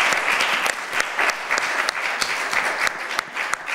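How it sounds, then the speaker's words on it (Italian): A studio audience on an Italian TV show applauds steadily, with dense, loud clapping close up and continuous throughout. "Applausi."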